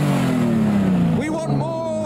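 A yellow Nissan R32 engine revs loudly at the SEMA 2023 show, its pitch sliding down and then climbing again in a sharp blip over crowd noise.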